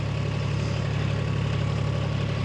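Vehicle engine running at a steady RPM, a constant low droning hum with even vibration, close and unchanging throughout.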